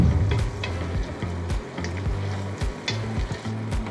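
Carrots sizzle in a hot pan as the first vegetable for minestrone soup, a steady frying hiss broken by low knocks and scrapes of stirring, close and moderately loud with no talk.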